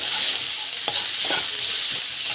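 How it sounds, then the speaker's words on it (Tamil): Ginger garlic paste with turmeric powder sizzles loudly in a hot pan, a dense steady frying hiss close by, with a few soft spatula scrapes as it is stirred and sautéed. "தேவையான அளவுக்கு மஞ்சள் பொடி வந்து ஆட் பண்ணிட்டு நல்லா வந்து இது வதக்கிக்கோங்க."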